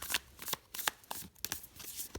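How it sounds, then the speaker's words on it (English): A tarot deck of oracle-size cards being shuffled by hand, a close series of crisp riffling bursts and papery flicks repeating irregularly without talk. "so it shuffles nicely"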